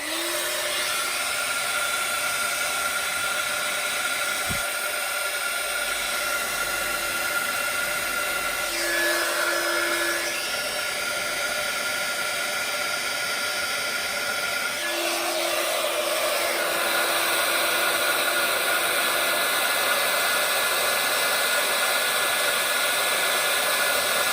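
Electric heat tool blowing steadily to set gold embossing powder on a stamped autumn leaf card, a continuous close whirring hiss with brief changes in tone as the tool shifts, no voices.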